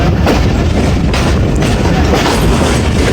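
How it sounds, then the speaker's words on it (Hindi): The Awam Express train of Pakistan Railways running into Wazirabad, a loud, dense continuous rumble and roar with faint rhythmic clatter underneath, heard close up from on board with no talking. "वज़ीराबाद पहुंच गई जी हमारी 13 अब अवाम एक्सप्रेस।"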